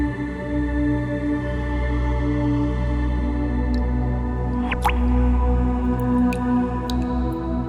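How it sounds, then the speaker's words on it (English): Water dripping in a fantasy video game, a few clear drops falling over a steady low ambient drone with shimmering tones, no voices. "This must be water."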